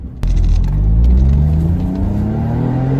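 A Brabus Smart car accelerates and revs from inside the cabin, the engine note climbing steadily and loudly after a sharp start, with no talk.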